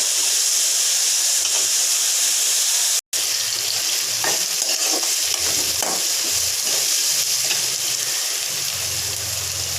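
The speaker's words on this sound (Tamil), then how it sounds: "வெங்காயம் நல்லா பொன் வறுவலாக வறுத்தோம்" Onions frying golden in hot oil give a continuous bright sizzle and hiss, with soft stirring scrapes throughout and a brief dropout partway.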